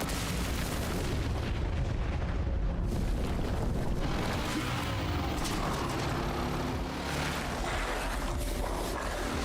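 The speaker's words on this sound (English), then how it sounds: "What do you mean he has a rocket launcher?" Rocket launcher explosions rumble through a chaotic zombie-filled Resident Evil mercenaries-style video game stage, a dense, loud, continuous wall of booms, blasts and crackling impacts with no pauses.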